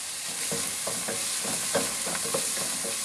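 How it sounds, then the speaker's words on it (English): Finely diced onion sweats gently in a pot, giving a steady soft sizzle with occasional light stirring taps, close and continuous with no talk. "I've finely diced one onion, which I'll put on to sweat."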